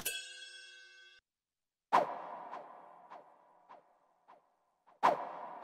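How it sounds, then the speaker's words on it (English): Katana sword swing sample: a sharp metallic ring opens, then after a gap come several swishing strikes with ringing tails, one every half second or so, ending on another bright strike, loud and close with no voices. "When you swing the sword, it sounds like this."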